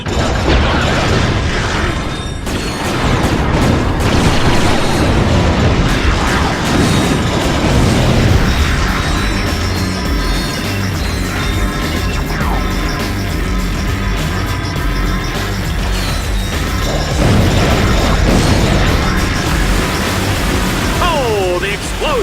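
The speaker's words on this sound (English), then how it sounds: "the explosion, the gunfire, the carnage" In the game Ratchet Deadlocked, continuous loud, dense battle noise plays throughout, with booming explosions and rapid gunfire layered over a constant roar, busy and unbroken.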